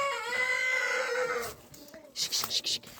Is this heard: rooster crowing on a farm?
yes